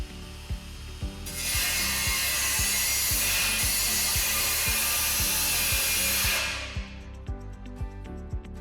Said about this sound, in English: So we're going to use a 5-inch grinder alongside one of our MetalMax Diamond Discs.